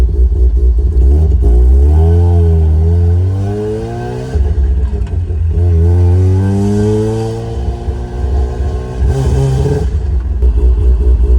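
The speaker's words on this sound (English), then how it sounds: "Other than that, the car sounds really good though" A Mazda RX-8 engine, running without a catalytic converter, idles roughly, then revs up and down several times, the pitch rising and falling with each throttle blip; no talking.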